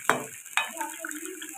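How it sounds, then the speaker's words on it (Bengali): A spoon stirs fish curry with garam masala in a pan, two sharp scrapes against the metal followed by a soft simmering bubble, close and fairly quiet. "আমি দিয়ে দেবো একটু গরম মশলা, নেড়ে চেড়ে মিশিয়ে নেব।"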